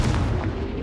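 A Confringo spell explodes in Hogwarts Legacy, a loud, close, booming blast of noise filling the whole brief moment.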